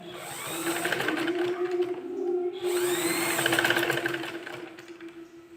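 A sewing machine stitches cloth with a close, steady whirring hum, running in two continuous bursts separated by a brief stop near the middle.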